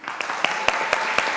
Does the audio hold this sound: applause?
yes